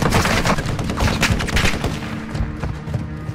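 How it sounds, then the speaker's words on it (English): Dense, rapid gunfire from a battle-royale style video game crackles in a continuous burst of sharp overlapping shots, loud and close, thinning slightly toward the end. "Fam, who's shooting?"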